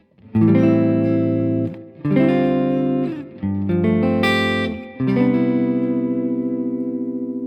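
An electric guitar strums four full, sustained chords in a turnaround progression, with effects-laden tone and a final ringing chord, no voices.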